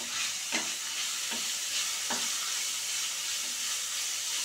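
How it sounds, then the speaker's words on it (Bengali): Beans and vegetables for street-style chowmein fry in a pan, a steady close hiss of sizzling with three distinct scraping stirs early on. "দিয়ে এটাকে ভালো করে একটু নেড়ে চেড়ে নেব।"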